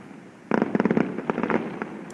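Aerial fireworks shells crackle and pop in a rapid cluster of sharp bursts over the sea at a Penghu fireworks festival, loud and close after a quiet start.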